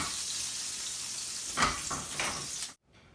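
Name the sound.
bacon sizzling as it fries in a pan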